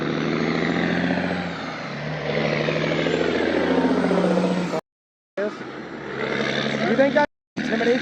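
A truck rumbles along a roadway with a steady, loud engine drone that swells as it passes, cut by brief dropouts near the end.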